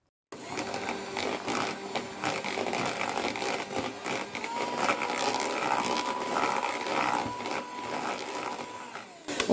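An electric mixer whips cream, making a continuous buzzing motor hum with a slightly rattling texture that holds steady nearly the whole time.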